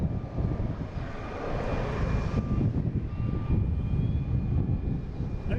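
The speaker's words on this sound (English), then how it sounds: "We got a Cape Air that we saw earlier, leaving the alley here, heading to Martha's Vineyard." A Cape Air plane leaves the alley at Boston Logan airport, its engine a steady moderate drone with a faint high tonal whine, heard at middle distance with no talk.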